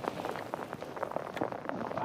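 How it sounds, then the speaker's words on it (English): Rain falls onto Pickwick Lake in Alabama, a close, continuous patter with many distinct drops striking water and nearby surfaces, and no voices. "I think the rain is here to stay for a while."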